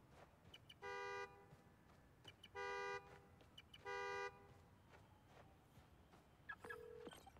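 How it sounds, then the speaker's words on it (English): Three loud, evenly spaced car horn honks set off by a key fob in the game Spider-Man: Miles Morales, each about half a second long, over faint city ambience, with a short higher beep near the end. "Follow the honk."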